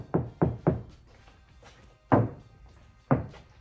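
Knuckles knock on the bare tin door panel of a VW T5 camper van with no sound deadening: three quick hollow thunks in a row, then two more single knocks, each close and resonant.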